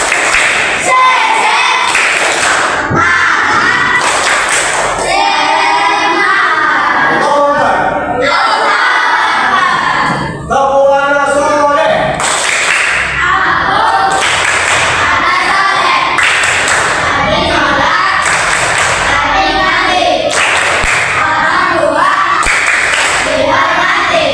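A crowd of students bangs out a fast, rhythmic group clap with loud thumps and shouted chanting, several bursts in a steady beat, close and energetic throughout.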